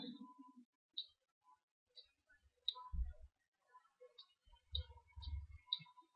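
Computer mouse clicking while working in Silhouette Studio software, several sharp isolated clicks spaced irregularly against near silence, with quiet low thumps in between.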